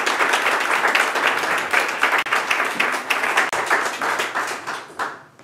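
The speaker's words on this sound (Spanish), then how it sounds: "por favor, un aplauso para él" Dense, steady audience applause at a talk on human resources practices for industry, many hands clapping close together for a former engineering director. It fills the whole stretch at even loudness, then thins and fades near the end.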